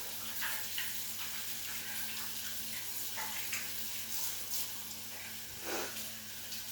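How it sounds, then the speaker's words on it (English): Hot water runs steadily from a kitchen tap while vegetables are being prepared for a meal, a continuous close hiss with faint clinks and a low hum underneath, no talking. "We'll get some hot water going and we are going to wipe this veg down."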